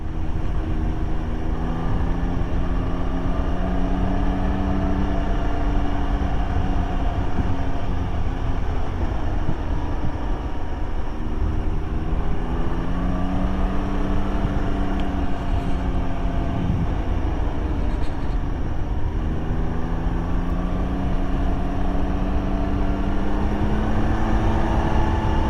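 A 2019 Can-Am Ryker 900 three-wheeler with automatic transmission cruising slowly, its engine droning steadily with gently rising and falling pitch under a constant wash of wind noise, loud and unbroken throughout.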